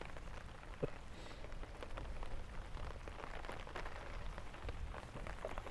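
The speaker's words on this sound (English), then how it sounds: "Sitting here in the rain enjoying it." Rain drumming continuously on an umbrella, with scattered louder drips landing nearby over a soft, constant patter.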